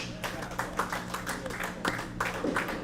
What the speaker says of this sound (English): Let's give them a nice round of applause as they begin the match.